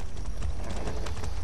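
Horse hooves clip-clop in the video game Far Cry 6, a short, brisk run of close hoofbeats over a dense, loud background rumble.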